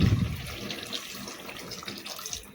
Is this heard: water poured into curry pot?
yes